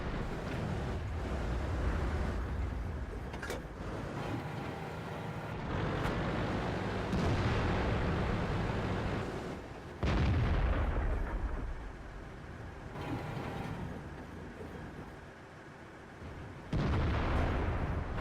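Tank cannon fire in World of Tanks, with a heavy tank battling on sandy dune terrain: loud booming shots and rumbling blasts repeat every few seconds over steady engine and wind noise, no voices.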